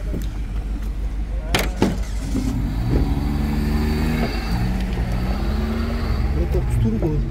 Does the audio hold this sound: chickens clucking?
no